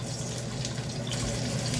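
Hot oil sizzles in a pan, heated and ready for frying potatoes, a steady close hiss that runs without break and with no talk over it.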